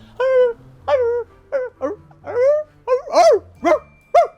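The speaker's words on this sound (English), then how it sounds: "Oh, it's a dog." A dog barks and yowls in a series of about nine separate, drawn-out howling barks, close and loud, some rising into high yelps.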